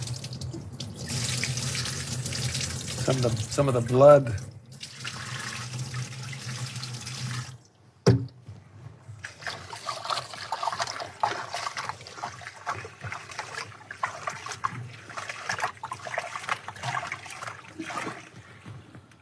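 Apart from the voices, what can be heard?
rinsing chicken pieces in water in a large bowl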